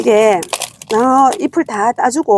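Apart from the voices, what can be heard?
No everyday noise stands out behind the speech.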